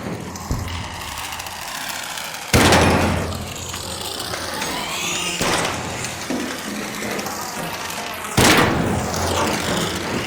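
ARC Raiders game gunfire and booms erupt in a few sharp bursts over a constant noisy rumble, loud and sudden with gaps between.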